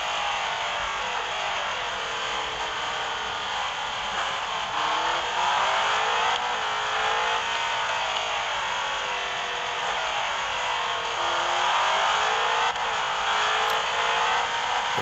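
An Aston Martin V8 engine in the Real Racing 3 mobile game, a steady loud buzzing drone that rises and falls gently with gear changes and throttle, with no talk over it.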